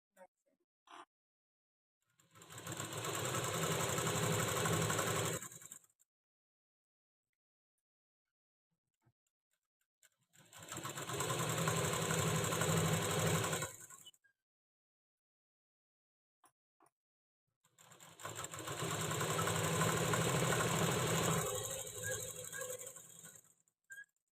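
A sewing machine stitching a thread-piped blouse runs in three separate bursts of about three seconds each, a dense mechanical whirring with silence between the runs.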